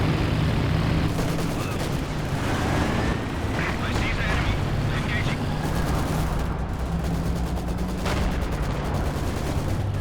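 Werfer rocket artillery fires amid a Company of Heroes 2 battle, with dense, continuous booms, bursts and gunfire running throughout at steady loudness.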